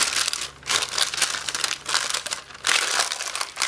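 Sheet of wax paper crinkles and rustles loudly up close while being handled for wrapping a candle, in bursts with short pauses, no voices.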